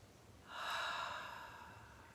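A single slow breath drawn during a guided breathing exercise, rising from near silence, swelling to a soft hiss for about a second, then tapering off, close and gentle with no talking.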